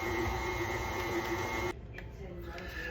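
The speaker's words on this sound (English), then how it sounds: "we're going to turn the mixer on about medium" Electric stand mixer running at medium speed beating cake batter, a steady motor whine with a loud continuous hum that drops abruptly partway through to a quieter, softer churning drone.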